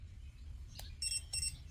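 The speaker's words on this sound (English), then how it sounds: "It's also have the beep." Two short high electronic beeps in quick succession from a Jugbow dog training collar, preceded by a faint click, close and clear over low background hum.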